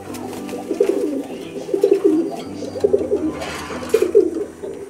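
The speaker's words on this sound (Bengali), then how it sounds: "তো আমার দ্বিতীয় যেই খাঁচাটি আছে সেই খাঁচায় কিছু কবুতর আছে" Pigeons, including White Bombai birds, coo in a cage with a steady run of soft, throaty, bubbling calls rising and falling in close, clear bursts, with no talking.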